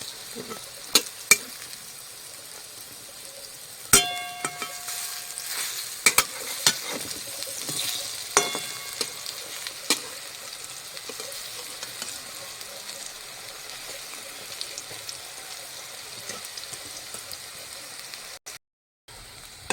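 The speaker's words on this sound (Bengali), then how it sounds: "এগুলো সব উল্টে দেবো এখন এক পিঠ হয়ে গেছে" Fritters (bora) are flipped and keep frying in oil, a continuous close sizzle punctuated by sharp spatula clicks and knocks against the pan, with little talk.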